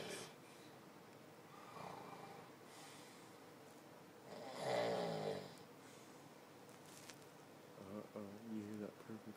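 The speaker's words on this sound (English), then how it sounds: "Kick him and he just starts snoring again." A man sleeping nearby snores and snorts in irregular rough bursts, with a louder rattling snore midway and choppier snorts near the end, over a quiet room.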